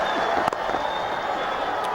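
A cricket stadium crowd of Pakistani supporters at an India–Pakistan match keeps up a steady distant roar and hum, with a brief louder swell near the start.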